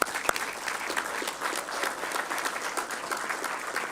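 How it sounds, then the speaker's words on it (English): A room full of people clapping steadily for a few seconds at a city council meeting, dense and fairly close, with no talking over it. "let's give her a round of applause"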